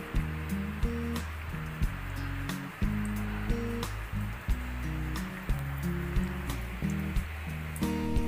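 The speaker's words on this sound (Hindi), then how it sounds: "तेल गर्म हो चुका है, अब हम इसमें डालेंगे हमारे बॉल्स को।" Potato lollipop balls frying in hot oil, giving a steady bubbling sizzle with soft crackles under continuous background music.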